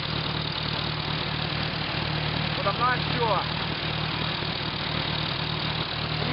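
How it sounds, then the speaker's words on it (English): Hercules Motor Corp four-cylinder engine driving a WWII Hobart Brothers A3 generator, idling with a steady low rumble throughout while someone talks briefly over it. "The motor is actually a Hercules Motor Corp engine."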